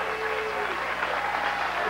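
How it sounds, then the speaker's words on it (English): A televised bowling crowd at the 2005 PBA BowlersParadise.com Classic boos Ryan Shafer, a steady broad crowd roar with a voice talking over it. "Keep booing, you gotta love it."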